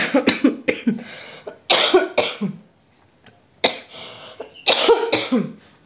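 A person coughs in a rapid series of harsh, rough bursts, close by, with a brief pause before another fit of coughing.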